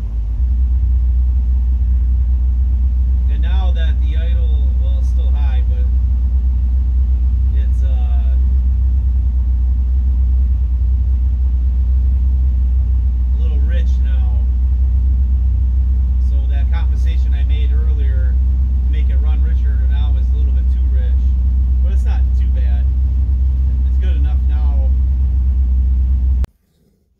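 A 1963 Ford Falcon with a turbocharged 2.3L engine idles high, a steady loud low rumble running throughout while someone talks over it intermittently.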